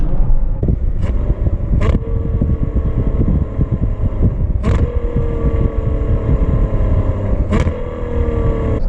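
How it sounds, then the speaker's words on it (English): A V12 supercar roars hard through a series of downshifts. Loud, sharp engine blips burst out at uneven intervals over a constant close, gravelly drone with wind noise. "Those downshifts just rip."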